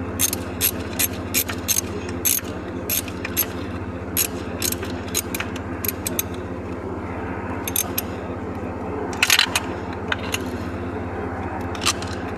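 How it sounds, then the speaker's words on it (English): A ratchet wrench clicks in quick, uneven bursts while the alternator is replaced on a 1999 Mack dump truck, loud and close over a constant engine-like drone. "Go ahead and start ratcheting."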